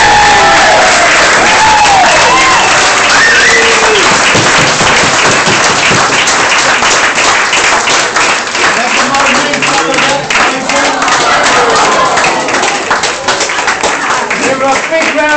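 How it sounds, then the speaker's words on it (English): A crowd at a Christmas gathering claps and cheers loudly, continuous dense applause with whoops and voices rising above it throughout, staying close and full for the whole stretch. "Round of applause"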